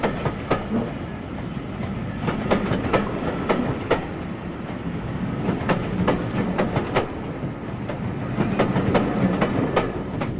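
Electric train on the Woodhead line near Penistone, heading toward the eastern end of Woodhead Tunnel, rumbling steadily with repeated clickety-clack wheel beats over rail joints, close and continuous throughout.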